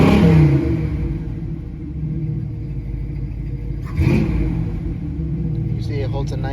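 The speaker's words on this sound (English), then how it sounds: "Look, I'll hit the throttle a little bit." A 1973 Oldsmobile Omega V8 with dual exhaust rumbles near the mic as the throttle is blipped, a low engine drone that swells briefly partway through while a voice talks over it.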